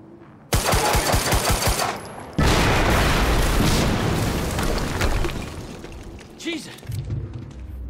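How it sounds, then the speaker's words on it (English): An explosion and gunfire go off in the video game Quantum Break. A burst of rapid shots comes first, then a loud boom that rumbles and decays over several seconds, with voices talking through part of it. "HQ, we just heard an explosion near the harvesting perimeter."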